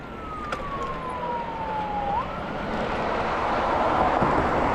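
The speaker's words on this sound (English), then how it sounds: "Ambulance." An ambulance siren wails in a falling tone and then cuts off, heard from a distance over steady Las Vegas traffic noise that gradually grows louder.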